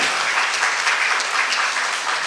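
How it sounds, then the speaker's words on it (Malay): An audience at a literary awards ceremony claps for a novel-category winner, a dense, sustained round of applause filling the hall at moderate volume without a break. "Kita berikan tepukan sekali lagi untuk Encik Jamal Ismail"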